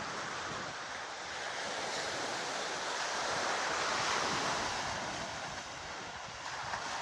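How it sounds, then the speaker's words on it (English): Ocean waves breaking steadily on the beach at Ocean City, Maryland, a continuous broad wash of surf with wind buffeting the microphone, swelling slightly midway, no voices. "So there's the ocean."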